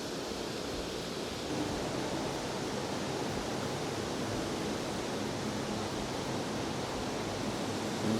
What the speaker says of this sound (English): Stunning waterfalls.